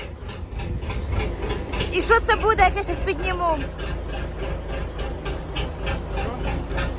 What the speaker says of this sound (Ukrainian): Так, ну що, завели трактор.